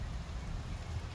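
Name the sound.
rain falling, drizzle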